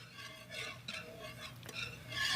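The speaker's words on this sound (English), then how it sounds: "I'm gonna whisk that to dissolve" Something is whisked into hot tea to dissolve it, a soft rhythmic swishing and light scraping of the whisk against the container, rising and falling in quick strokes and fairly quiet.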